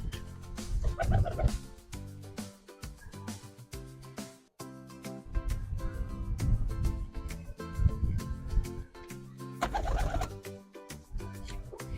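A pet pigeon in its coop coos in low, soft repeated phrases, close by, with background music running over much of it and a brief quiet gap midway.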